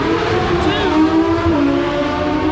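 A loud, continuous roar of drag racing engines fills the air beside the track at the World Finals, with a faint whining pitch sweep as a car revs past.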